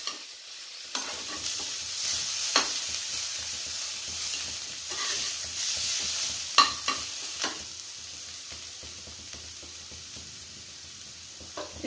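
Onions frying in a pan while being stirred: a steady soft sizzle with intermittent scraping and clinking stirs, close up, no speech.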